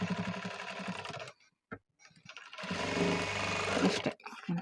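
A sewing machine stitches a fish-cut border design in quick, close bursts of rapid whirring, with a short pause in the middle before the run starts again.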